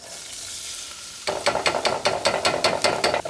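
After about a second of quiet, onion and garlic hit hot olive oil and sizzle loudly, followed by a rhythmic series of scraping stirs that pulse roughly every quarter second. No one talks.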